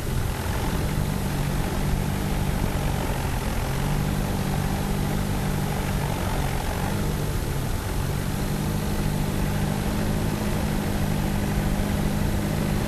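A Deutz 7206A tractor engine idles steadily nearby, a constant low throbbing drone with slight shifts in pitch, no voices.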